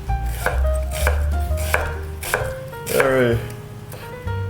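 A knife slicing peeled onions thinly on a board, with about seven crisp, evenly spaced chops close by and a faint hum underneath.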